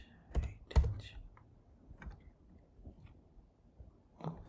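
Someone types a one-time code on a computer keyboard while signing up for an AWS account: a few sharp key clicks at first, then sparse lighter taps with faint background noise.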